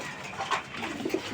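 Giribaz pigeons give soft, low coos close by, a few short murmuring calls in quick succession against a quiet background.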